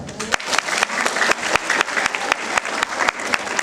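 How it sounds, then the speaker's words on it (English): A school audience bursts into loud, sustained applause at a head girl's speech, many hands clapping densely and continuously without a break. "But I request you all to clap just one more time."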